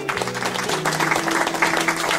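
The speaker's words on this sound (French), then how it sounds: "Voulez-vous les applaudir?" Audience applause at a presentation of a charity association, a steady, dense patter of clapping held at an even level throughout, with faint tonal sounds underneath.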